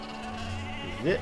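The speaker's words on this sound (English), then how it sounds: "Look at all the sheep standing around." Sheep bleat in the Ymir video game, one rising bleat near the end of the clip, heard over steady game ambience and faint background sound.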